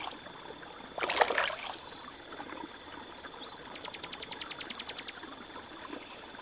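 River water flowing and trickling in the children's app game Oh, wie schön ist Panama, a steady soft wash with a brief louder splash near the start and faint chirps later.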